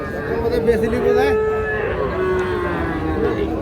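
Young bull calves about four months old at a crowded cattle market, lowing and mooing in overlapping calls, fairly close and continuous, with faint crowd chatter beneath.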